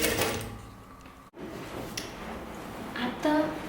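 An overlock machine stitches a sleeve seam on a top with puffy sleeves, giving a close mechanical whirr in bursts with pauses and clicks, while a person talks over it.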